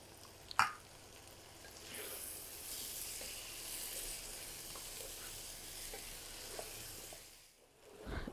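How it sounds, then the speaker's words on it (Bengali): Onions, ginger, garlic and chicken fry in a pan for a chicken gravy masala, giving a soft, steady sizzle with a sharp clink near the start and gentle stirring. "একটু সময় নিয়ে 6-7 মিনিট আমি এটাকে ভালো করে ভেজে বা কষিয়ে নিলাম"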